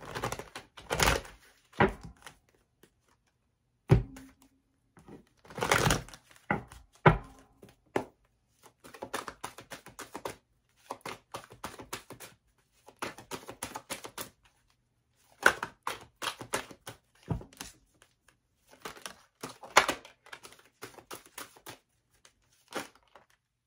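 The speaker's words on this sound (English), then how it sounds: "ask while I shuffle the cards a bit" A deck of tarot or oracle cards is shuffled in repeated bursts of riffling and flicking, sharp and close, separated by short silent pauses.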